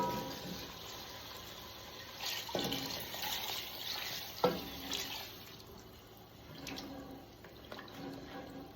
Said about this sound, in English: Okay, I'm going to put 6 cups of beef broth in here.